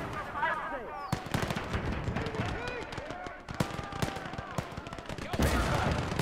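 Artillery and gunfire in the WWII video game Gates of Hell Ostfront: sharp blasts and shell impacts go off at irregular intervals, some near and loud, others more distant, mixed with battlefield noise and voices talking over the top.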